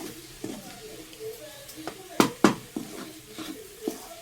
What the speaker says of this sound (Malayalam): നന്നായിട്ടൊന്ന് ഇളക്കി കൊടുത്തോണ്ടിരുന്നാലുണ്ടല്ലോ എല്ലാം മസാലയെല്ലാം മിക്സാവും.